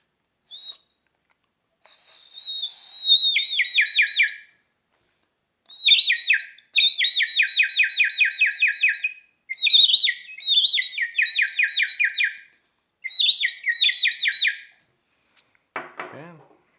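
A water-filled bird whistle toy warbles in bursts of trilling, chirping bird song, repeated several times with short silent gaps between the phrases.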